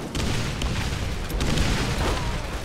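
Grenade explosions in the Borderlands video game, a rumbling boom with continuous blasts and crackle for a few seconds, loud and close, no voices over it.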